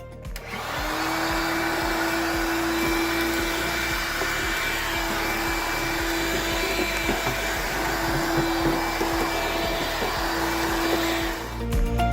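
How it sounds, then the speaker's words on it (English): A DeWalt vacuum cleaner runs steadily and loudly for the whole stretch, with a constant motor whine and broad airflow roar that stop abruptly at the end; no one speaks. "Vacuum, because it's not a cleaning implement, because it has the DeWalt logo on it"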